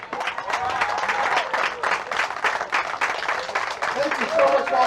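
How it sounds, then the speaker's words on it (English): Applause breaks out at a youth nonviolence summit after a check is presented to a community group, with steady clapping from a modest crowd and voices mixed in throughout. "Give them a round of applause."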